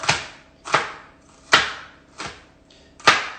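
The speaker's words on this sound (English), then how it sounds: "And I'm going to chop these peppers up." A kitchen knife chops peppers on a cutting board in a home cooking setting, five sharp, separate knocks spaced irregularly about half a second to a second apart, close and clear with no talk.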